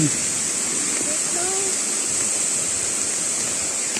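Hidden falls in Cavite roar with a steady, loud, broadband rush of falling water that stays close and unbroken throughout, with faint voices barely showing through it.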